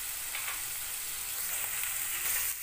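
Spices and chilli powder fry in a pan with a dense, even hiss of sizzling oil, close and steady, with faint stirring movements underneath.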